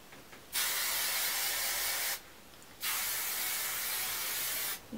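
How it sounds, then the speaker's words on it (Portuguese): Hairspray is sprayed onto freshly curled hair while a loose bridal hairstyle is styled, heard as two long, close, steady hissing bursts separated by a short pause. "Pego meu spray."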